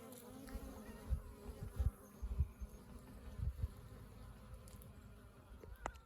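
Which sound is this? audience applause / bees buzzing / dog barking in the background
bees buzzing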